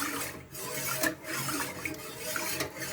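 A spoon scraping and rubbing around a pot of coconut pudding mixture, uneven rasping strokes repeating close up with no voices.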